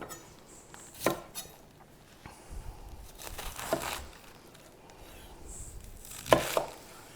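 A knife cuts washed, undried lettuce into wedges on a board, a few scattered crunchy chops and soft crinkles, close and quiet, with no talk.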